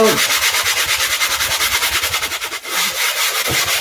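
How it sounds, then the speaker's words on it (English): Hand sanding across a gesso-prepared canvas in an art studio, producing a steady, rhythmic series of close, dry rubbing strokes that continue throughout. "I'm just sanding."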